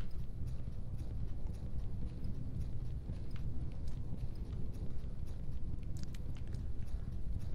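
Horse hooves clip-clop at a steady walking pace in a video game, continuous and fairly even, with a faint low background bed and no speech.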